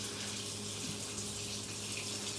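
A kitchen tap runs in a steady, close hiss of flowing water that stays constant and fairly quiet throughout, with nobody speaking.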